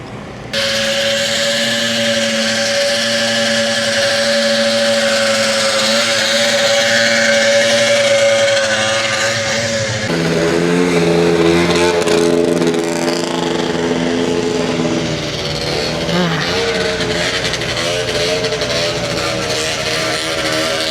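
Several vintage Polaris Starfire TX snowmobiles idle and rev at a vintage snowmobile gathering in Eagle River, a loud steady engine drone with shifting pitch and rising revs for the whole stretch.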